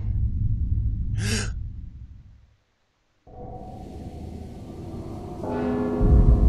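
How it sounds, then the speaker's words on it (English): A bell rings inside the stealth video game Mark of the Ninja, a brief resonant toll amid low game ambience that drops to silence before a busier, steady hum returns. "Don't you hear the bell?"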